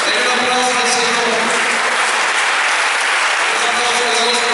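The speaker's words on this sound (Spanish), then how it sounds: "Den un aplauso al Señor." A congregation at an evangelical church service applauds loudly and steadily, with dense, continuous clapping from start to finish that sounds close and fills the room.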